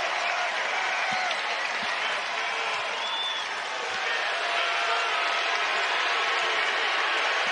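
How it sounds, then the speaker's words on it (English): A basketball crowd at the FedEx Forum applauds steadily during a Memphis Tigers game, a dense, even wash of clapping that runs throughout. "this crowd here at the FedEx Forum showing their appreciation"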